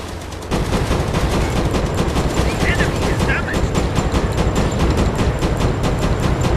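Anti-aircraft guns firing from a submarine in the Uboat video game, a dense, continuous rapid burst of loud shots with a voice briefly speaking over the fire.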